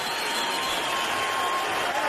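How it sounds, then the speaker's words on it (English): A boxing arena crowd at a 1993 heavyweight fight stands and cheers for both fighters, a steady, dense roar of applause and voices holding at an even level throughout. "the crowd stands and cheers for both fighters"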